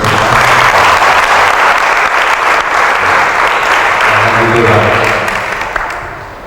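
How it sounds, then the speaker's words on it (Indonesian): Loud, sustained clapping fills a church hall at a Christmas service, continuing steadily before tapering off slightly near the end. "Mari tepuk tangan untuk"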